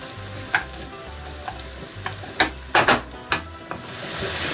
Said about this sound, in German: Wenn es dann so ein bisschen anfängt zu brutzeln,